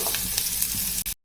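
Finely chopped onions sauté in oil for a Malvani chicken curry, giving a steady close sizzle with faint stirring, briefly interrupted near the end before it cuts off.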